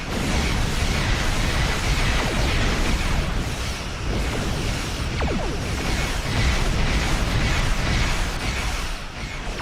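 Starship torpedoes fire and burst in a space combat video game, a dense, loud, continuous roar of blasts and rumbling impacts that fills the whole stretch without pause.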